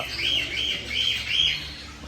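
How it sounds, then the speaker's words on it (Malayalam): Close, shrill bird chirps in a repeating pattern, about four squeaky calls in quick succession over a quiet background. "എന്താ നല്ല ടൈപ്പ് കിളികൾ"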